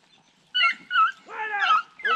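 Hunting dogs give a string of close, high whimpers and yips during a rabbit hunt in San Clemente, Chile, in short bursts with gaps between them.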